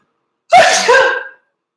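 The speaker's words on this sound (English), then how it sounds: "Hold on, I have to sneeze." A single close, sharp sneeze with a brief intake before it, then silence.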